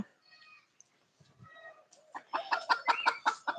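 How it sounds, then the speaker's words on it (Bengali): A chicken that had been kept tied up clucks close by, starting with a few faint calls and building into a loud run of rhythmic, rapid clucks. "একটা মুরগি বেঁধে রেখেছিলাম তো ছেড়ে দিই"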